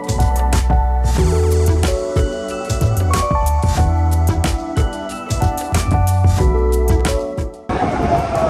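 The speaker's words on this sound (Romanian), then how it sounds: "de aici o să luăm un tren local să ajungem fix în centrul orașului" A local train runs from Shin Osaka toward central Osaka, with loud rumbling, rhythmic wheel clatter over the rails and tonal motor whine rising and falling, heard from inside the carriage.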